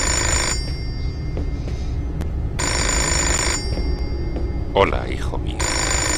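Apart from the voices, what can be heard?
telephone ringing in video game Fahrenheit Indigo Prophecy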